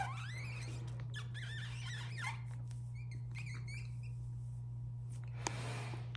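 Thin, high squeaks made by blowing air slowly through pursed lips as a beatbox exercise, several brief chirping bursts in a row, faint and close, over a low steady hum.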